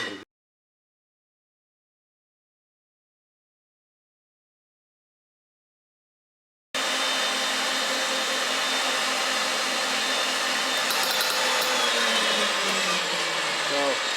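A cut-off wheel grinder cutting steel pipe starts abruptly after several seconds of silence, then holds a loud, steady, high whine right up close until the clip ends.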